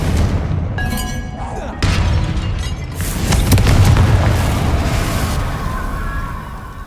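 A Confringo fire spell explodes in Hogwarts Legacy, a loud booming blast followed by a long rumbling, crackling roar that fades slowly with game effects layered over it.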